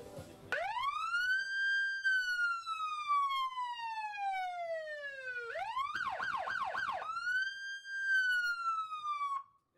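Siren of a restored police car, loud and close, with long rising-and-falling wails, a burst of fast yelping sweeps in the middle, then a return to the slow wail before it cuts off.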